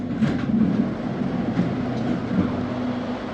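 A train at Bang Sue Grand Station in Bangkok gives a steady mid-level rumble with a faint low hum, heard close and alone for the whole stretch without talk.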